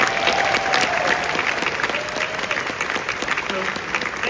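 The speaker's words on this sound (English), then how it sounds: "round of applause for our fan question" A Comic-Con Hall H audience breaks into sustained applause, a dense wash of many hands clapping in a large hall, with faint voices underneath.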